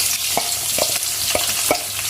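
Onions, garlic and green chillies sauté in hot oil, a steady sizzle with a few short scraping stirs of a spatula, close and fairly loud, no voices.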